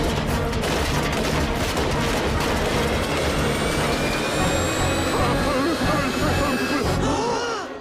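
A cartoon flying drone's engine in an American Dad scene roars loudly and continuously, a dense jet-like whoosh with a rising whine, before cutting off abruptly at the end.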